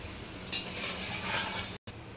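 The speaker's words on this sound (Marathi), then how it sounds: "अशा प्रकारे आपण डाळ तेलामध्ये तळून घेतली आहे" Chana dal frying in hot oil for homemade crispy chivda, giving a steady close sizzle and hiss throughout, with a brief dropout near the end and no voices.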